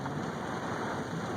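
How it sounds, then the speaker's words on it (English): Heavy rain pours down steadily outdoors in North Carolina during a flash flood warning, a dense, continuous hiss with no voices. "Bunch of rain."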